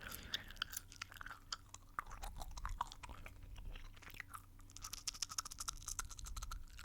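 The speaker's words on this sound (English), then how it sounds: "I am just chewing gum into a mic" Gum is chewed right up against a microphone, producing wet, sticky smacks and clicks in an irregular, continuous rhythm, intimate and quiet with no talking.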